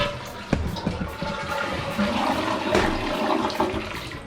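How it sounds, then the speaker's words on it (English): A household toilet being repaired flushes close by, a loud rushing gurgle of draining water with a clunk of the handle at the start, no one talking. "Flush the toilet."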